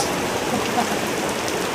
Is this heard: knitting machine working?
no